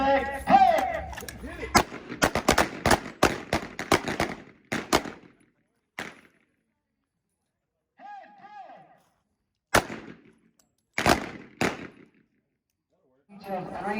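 Handguns fire on an outdoor range during a defensive handgun class: rapid volleys of sharp cracks from several shooters at once, then sparser single and paired shots with short pauses, and a brief voice or whistle in a gap.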